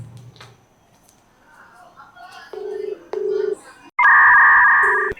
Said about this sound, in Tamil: ஃபோன் போட்டு பார்ப்போம்.